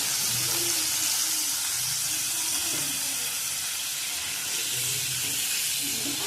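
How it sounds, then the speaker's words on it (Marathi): Paneer fries in oil in a pan, making a steady, close hiss of sizzling that stays even throughout, with faint low murmurs underneath. "पनीर हलकसं तेलामध्ये ना थोडा गोल्डन कलर येईपर्यंत भाजून घेणार आहोत"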